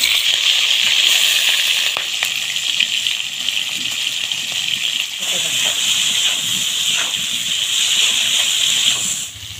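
Whole prawns sizzle loudly as they drop into hot oil seasoned with cumin for prawn bata, a dense, steady hiss that holds for several seconds before easing off at the end.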